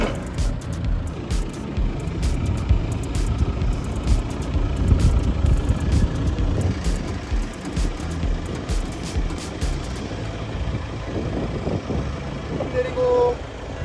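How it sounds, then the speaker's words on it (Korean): A tractor engine drones steadily during mechanical six-row seeding of pesticide-free carrots on a field, a low continuous rumble with some voices talking over it. "어설프지만 태어나서 처음으로 트랙터 기계 파종을 해봅니다."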